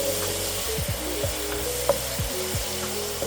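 Onion tipped into a pan of browning veal for a traditional Albanian tave dheu, sizzling loudly and steadily up close, with occasional stirring scrapes and a low hum under it; no talking.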